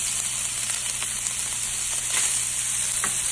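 Chopped bacon and sausage fry in a cast iron pan with a steady, close, crackling sizzle and a few faint utensil taps, without talk.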